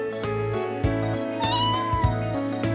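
A pet cat in the Love Live! School Idol Festival ALL STARS game lets out a short, high meow over soft, steady background music.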